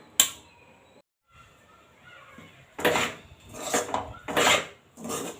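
Fish roe fry being stirred in a pan, giving a few separate scraping and clattering strokes of a utensil against the pan, close and moderately loud, with quieter pauses between them.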